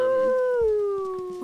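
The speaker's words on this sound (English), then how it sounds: "Oh, Remus came to do a howl as well." A single long wolf howl from the video game WolfQuest rises and then slowly falls in pitch, clear and sustained for about a second and a half, with faint rustling underneath.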